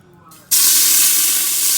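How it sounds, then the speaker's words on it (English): After a brief quiet start, a loud, steady sizzle bursts in as meat for a Guyanese cook-up hits a hot pan and keeps hissing close by. "Hear that sizzle?"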